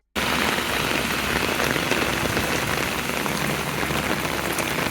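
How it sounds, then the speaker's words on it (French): Heavy rain pours down in Japan, a dense, loud, continuous hiss of drops on surfaces that starts abruptly and holds steady throughout. "Ah, il a commencé à pleuvoir."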